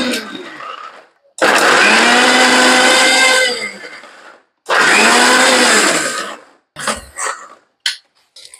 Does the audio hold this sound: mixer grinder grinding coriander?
yes